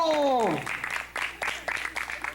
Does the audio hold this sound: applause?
yes